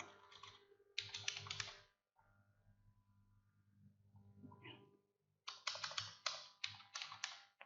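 Computer keyboard typing for copy and paste shortcuts, quick bursts of close, crisp key clicks separated by a quieter stretch with faint low hum, no talking.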